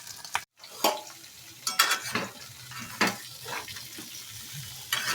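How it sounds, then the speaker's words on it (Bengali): Potatoes fry in oil, a low sizzle broken by several sharp clinks and scrapes of a spoon against the pan at uneven intervals, close and moderately loud with no voices. "আলুগুলো আমি হালকা ব্রাউন করে ভেজে নেব।"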